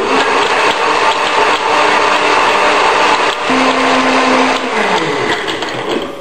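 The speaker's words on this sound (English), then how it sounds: "That's the time to blend it. Put the top on and just let it rip." A blender whirs loudly and steadily while blending a hot chocolate mixture with spices. The motor pitch shifts slightly near the end as it winds down.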